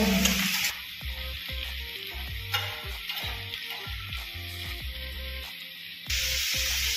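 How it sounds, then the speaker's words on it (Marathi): Paneer masala ingredients sautéing in a pan, with a steady hiss of frying and rhythmic scraping strokes of a stirring spoon heard close up and without talk. "थोडेसे परतून घेऊ"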